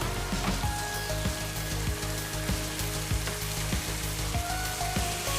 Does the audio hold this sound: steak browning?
yes